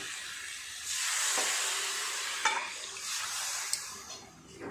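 Water poured into a pan of sautéed, simmering potato curry sends up a loud, steady sizzling hiss, with a few scraping stirs and clinks heard over it.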